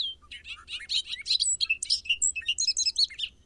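Recorded bird calls played back through a speaker: a rapid, continuous run of high chirps and tweets, fairly loud and close, over a steady low hum.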